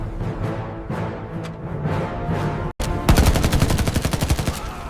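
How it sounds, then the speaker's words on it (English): Naval guns of a destroyer firing across the Atlantic during a World War II battle with a U-boat, heard as a dense rapid volley of loud blasts after a rumbling stretch, with a brief cut midway. "The destroyer's guns thundered, lashing out across the black Atlantic."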